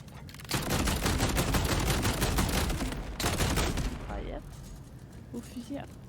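Rapid gunfire bursts in the video game Borderlands 4, dense automatic volleys of shots in two stretches, with French-speaking players' voices over and after the shooting.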